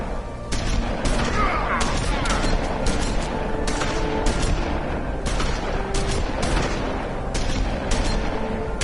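Rapid gunfire in The Wolf Among Us, loud sustained shots cracking in quick irregular succession over a dense, rumbling background for the whole stretch.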